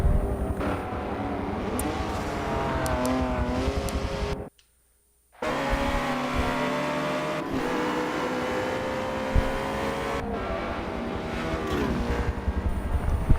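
Race cars at Daytona during a Michelin Pilot Challenge sports car race, including a McLaren and a big Mustang, roar past loudly with dense engine noise and gear changes, broken by a brief silent gap before the engine sound resumes.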